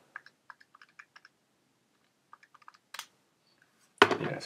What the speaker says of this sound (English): I'll just type that into the calculator